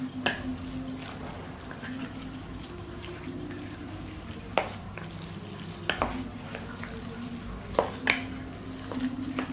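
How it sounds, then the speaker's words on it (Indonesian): A spoon stirs a tofu-based food mixture in a bowl, giving soft scraping with a few sharper clicks and taps against the bowl's side at irregular moments over a low steady background hum. "Diaduk lagi hingga rata seperti ini"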